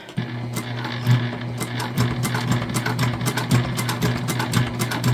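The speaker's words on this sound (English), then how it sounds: "Looks like we're getting a nice little top stitch." A sewing machine top-stitches a vinyl bag, its steady mechanical hum and rapid needle thumping running continuously and close by, with a brief pause near the start.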